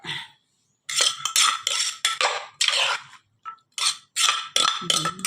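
Blanched vegetables tipped onto a tray while preparing Thai som tam with crab and fermented fish sauce, giving a series of short, fairly close clattering bursts with brief gaps between them.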